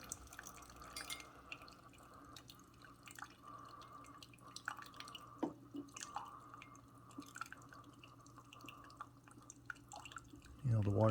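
Faint, slow dripping and trickling of coffee from a Keurig K-Supreme Plus coffee maker into a cup, with quiet irregular drips and a soft voice murmuring in the background.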